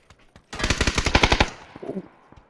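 Video game gunfire: a rapid burst of about a dozen automatic shots rattles out loud and close, then a fainter single report follows after a short gap.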